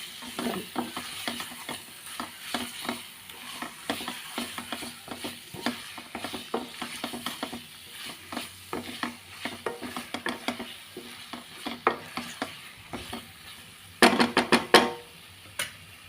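Liver fry being stirred in a pan with garam masala and coriander powder: a brisk, rhythmic run of close spoon scrapes over a low sizzle, ending in a few louder clattering strokes.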